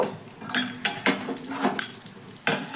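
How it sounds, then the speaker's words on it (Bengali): A lid comes off a cooking pan while making a semolina tiffin snack: a series of close metallic clanks and scrapes of cookware, irregularly spaced over a faint sizzle. "এবার ঢাকনাটা সরিয়ে নেব"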